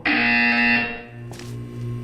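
A buzzer sounds in the video game Portal 2: one loud, steady electronic tone lasting under a second, then fading into a low background hum with faint mechanical noise.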